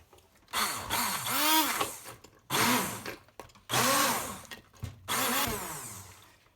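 An immersion blender purées a pot of cooked orange vegetable soup, whirring loudly in four long bursts separated by short pauses, its pitch bending as it churns through the thick mixture.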